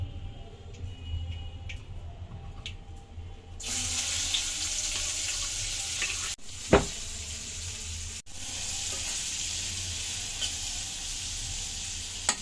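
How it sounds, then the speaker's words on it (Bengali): Cinnamon and cardamom fry in oil with onions in a pan, with a quiet start and then a strong steady sizzle, broken by a couple of short clatters and brief pauses, close up and without talk. "দারচিনি এলাচি গুলা যদি এই যে তেলের মধ্যে দিছি না, এই পেঁয়াজের সাথে তো যদি ভাজা ভাজা হয়"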